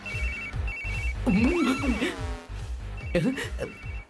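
A telephone ringtone repeats in short electronic bursts, with a person speaking briefly over it partway through.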